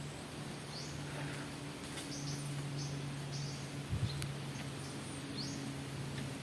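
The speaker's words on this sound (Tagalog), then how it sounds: "Sarap matulog dito mga idol. Sobrang tahimik. Mga ibon lang ang maingay." Faint, scattered bird chirps and short calls over a steady hum of insects in a quiet outdoor setting.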